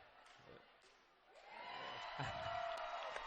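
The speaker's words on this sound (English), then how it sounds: "The crowd cheers him on." A high school girls' basketball crowd at a regional game in the Caston gym swells into sustained cheering for a player at the free throw line, faint at first, then building to a steady roar with a commentator talking over it.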